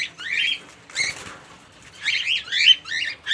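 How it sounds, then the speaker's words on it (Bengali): Caged pet birds are bathed in hot weather, with quick bursts of flapping wings and splashing alongside sharp chirps, close and in short clusters with brief pauses between. "দেখছেন আমি পাখিগুলোকে পাখিগুলোকে কীভাবে স্নান দিচ্ছি"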